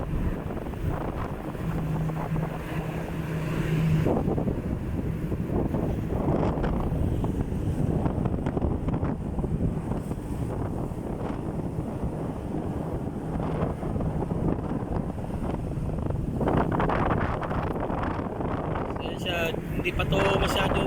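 Wind and rough seas batter a ship on the Indian Ocean, a continuous heavy roar of gusts and surging water that slackens and swells again, with voices talking faintly underneath.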